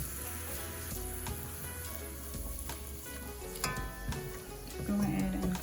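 Garlic sizzles in a hot pot over lowered heat for a lobster mac and cheese, giving a steady frying crackle with occasional stirring scrapes and clinks, and a low hum underneath.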